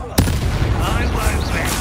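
Incendio fire spell cast in the video game Hogwarts Legacy: a sharp burst followed by a loud, sustained roaring whoosh of flame, close and dense throughout.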